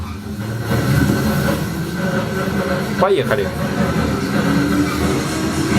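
Recorded subway metro train noise plays back as a steady, loud rumble with wheel and rail clatter throughout, heard through Blackview AirBuds One earbuds while a voice briefly speaks over it.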